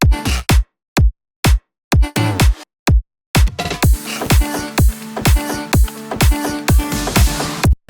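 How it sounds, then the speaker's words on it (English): A bass house drum loop plays a punchy kick, clap, shaker and ride cymbals. It opens with sparse hits and gaps, then settles into a steady driving groove, loud and up front with no voices. "So the drum loop all together they sound like this."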